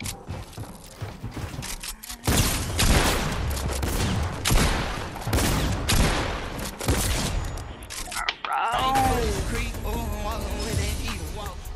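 Video game infantry rifle fire, dense and sustained, with rapid shots blurring into loud bursts that stop near the end, followed by a voice speaking.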